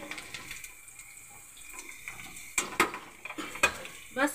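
Onions stir-fried in a pan for chicken and vegetable fried rice, a faint crackle behind scraping spatula strokes and clinks of metal that grow louder toward the end, with no voice heard.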